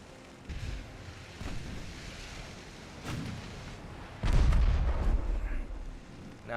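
Mark 1 11-inch guns on an early battleship in the naval game Ultimate Admiral Dreadnoughts fire a few scattered muffled reports, then a heavier booming salvo that rumbles on for a couple of seconds.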